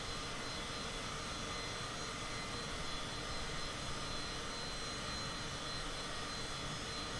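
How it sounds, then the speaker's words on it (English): A Cessna Citation CJ4 jet in Microsoft Flight Simulator gives a quiet, constant engine hum that holds unchanged from start to finish. "we are flying in the Cessna Citation CJ4, the Orbit airline version"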